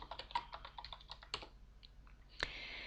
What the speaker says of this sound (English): I shall type Help Spells so that we can see the help file